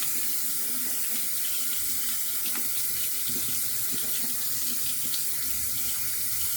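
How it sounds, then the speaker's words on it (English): A sink faucet runs steadily, a continuous close hiss and splash of water with slight gurgling variations, unbroken throughout. "Guess I could have turned that water off"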